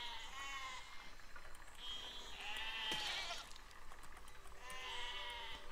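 Sheep bleating in the video game Besiege: several wavering bleats come one after another over a steady background hum, fairly close and moderately loud, with a short sharp knock between them.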